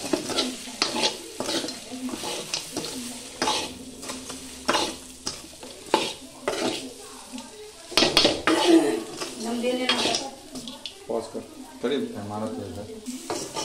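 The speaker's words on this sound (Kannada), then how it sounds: "ಸೊ ಈಗ ಮಸಾಲೆ ಖಾರ ಹಾಕಿದ ನಂತರ ಇದನ್ನ ಚೆನ್ನಾಗಿ ಮಿಕ್ಸ್ ಮಾಡ್ಕೋಬೇಕು" Chicken sukka being stirred with masala chili powder in a pan, a spoon scraping and clinking against the metal over steady sizzling frying, with a voice talking intermittently throughout.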